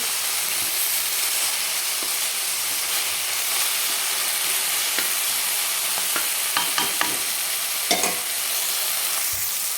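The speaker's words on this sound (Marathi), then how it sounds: "तर भाजी छान आपली परतून झालेली आहे" Fenugreek (methi) vegetable masala sautéing in a pan: a continuous close sizzle broken by repeated spatula scrapes and clacks, growing busier in the second half.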